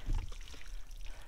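Water from a mountain stream on a trek trickles and pours while bottles are filled, a short, close, burbling flow with a brief louder splash at the start and no speech.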